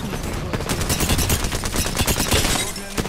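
Gunfire in Apex Legends, rapid bursts of loud automatic shots mixed with overlapping single cracks, dense and continuous across the moment of a firefight.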